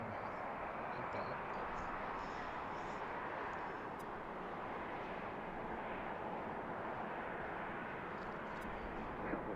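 Jet airliner landing at BWI airport, a steady, loud broadband roar that holds for the whole stretch without breaks, with no voices over it.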